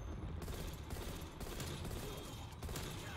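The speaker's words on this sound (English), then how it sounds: "I hear some gunfire." Sustained, dense gunfire in a video game, a continuous rattling fusillade at steady loudness throughout, with no talk.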